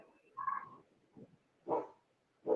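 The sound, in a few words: pet dog barking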